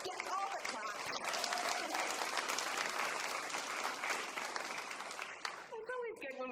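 Unitarian church congregation claps warmly for several seconds during a worship service, steady applause that fades out as a voice starts talking.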